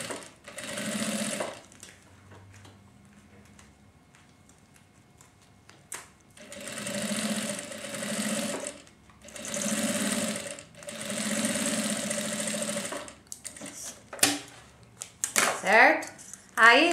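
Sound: sewing machine stitching a seam on a thermal lunch bag

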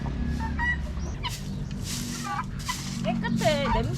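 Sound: backyard chickens clucking

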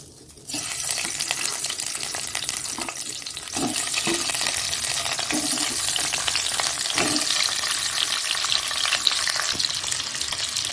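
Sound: eggs frying in hot oil

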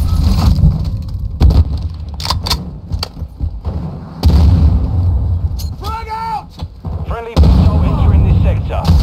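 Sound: frag grenade explosion, from video game Call of Duty Modern Warfare 2

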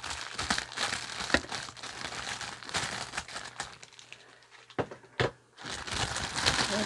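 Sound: peeling plastic wrap off bananas

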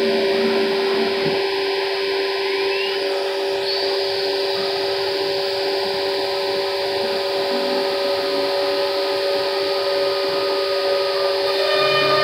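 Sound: Laguna Smart Shop II CNC machine running

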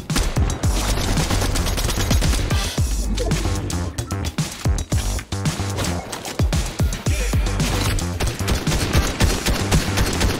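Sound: gunfire in Fortnite video game

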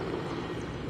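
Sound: Mi-17 helicopter circling overhead

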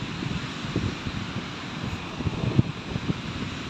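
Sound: strong wind

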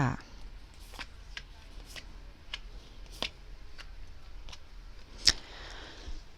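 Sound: tarot cards being turned over

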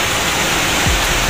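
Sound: heavy rain falling outside

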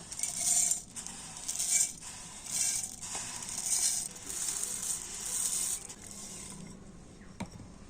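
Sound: puffed rice being poured into a mixer grinder jar

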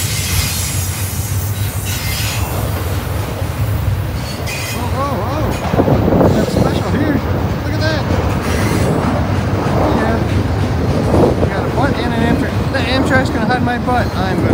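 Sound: train passing by near Long Bridge Park

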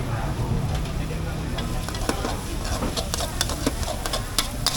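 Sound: pad thai stir-frying on charcoal stove at market stall

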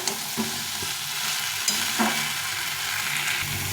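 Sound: spices and vegetables being sautéed and stirred in a pan

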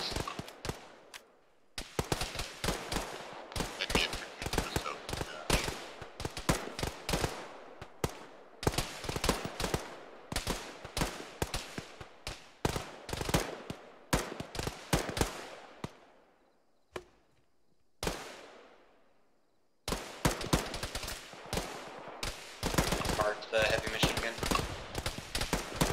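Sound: enemy machine gun firing in the video game Arma

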